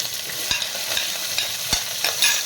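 Ginger and green chilies fry in hot oil over a low flame, with a steady soft sizzle and occasional sharp clicks and knocks from stirring.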